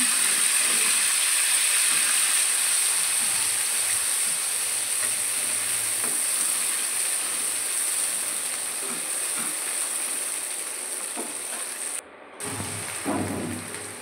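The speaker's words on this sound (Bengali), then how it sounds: "ওই তেলের মধ্যে কুমড়োগুলো ভেজে নিচ্ছি।" Pumpkin pieces sizzle in hot oil during vegetarian Bengali cooking, a steady broadband hiss running the whole time and easing slightly toward the end, with a brief sharp crackle near the close.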